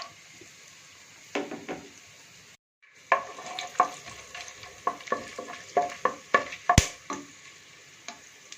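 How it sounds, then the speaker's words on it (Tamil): Cinnamon, cloves, cardamom and cashews sizzle in hot oil in a pan, a steady frying hiss broken by a short gap and then a run of sharp clinks and scrapes as a utensil stirs the spices. "பட்டை, கிராம்பு, ஏலக்காய், முந்திரி எல்லாம் போட்டு தாளிச்சிக்கலாம்"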